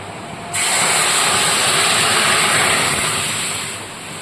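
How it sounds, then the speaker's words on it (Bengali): Heavy rain with strong wind outside a home kitchen: a dense, loud, even wash of noise that starts suddenly and holds steady before easing slightly at the end. "তবুও প্রচণ্ড বৃষ্টি প্রচণ্ড হাওয়া"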